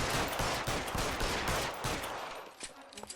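Gunfire in LA Noire, a rapid burst of loud shots crackling close together before trailing off into a few sparser cracks.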